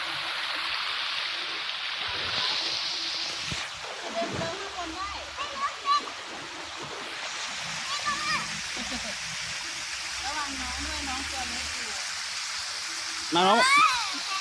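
A waterfall and stream in Chanthaburi, Thailand give a steady broadband rush of flowing water throughout, with people talking over it nearby.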